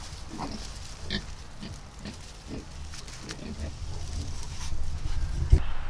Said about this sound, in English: we had our first litter of piglets born here on the homestead